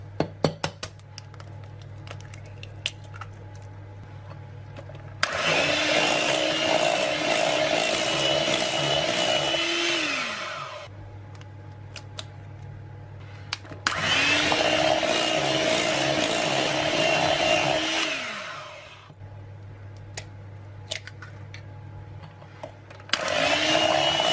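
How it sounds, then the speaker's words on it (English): Electric mixer whisking eggs into a smooth creamy batter, added one at a time, two long loud whirring runs each winding down, separated by quieter pauses. "And now we'll whisk in the eggs one at a time."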